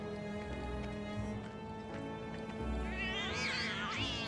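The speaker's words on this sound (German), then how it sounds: "Oh, Katzen." Cats meow in the Final Fantasy VII Remake video game, drawn-out rising and falling cries over a soft game background, growing louder and more wavering toward the end.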